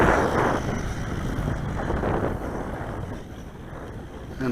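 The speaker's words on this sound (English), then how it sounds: "the wind is picking up a lot now" Wind blowing outdoors across the open ground of a 1:8 scale RC car test run, a steady low buffeting rumble that roars against the microphone throughout, with no voices.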